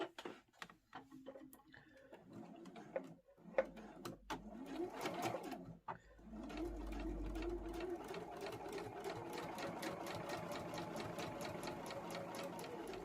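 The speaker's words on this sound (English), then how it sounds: "you're just going to sew straight down this line" A sewing machine stitches a straight seam on a fabric crossbody phone pouch, starting with a few hesitant bursts and then running steadily with a fast, even mechanical chatter, close and moderately quiet.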